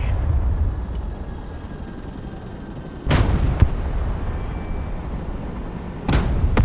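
A tank in the video game Broken Arrow fires kinetic rounds: three sharp, loud cannon blasts roughly three seconds apart over a low rumbling engine and battlefield din, without voices.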